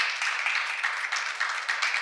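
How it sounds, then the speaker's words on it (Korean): An audience at a church seminar claps briefly, a steady patter of many hands with light rhythmic pulses, moderately close and without talk. "박수 하나 해주세요"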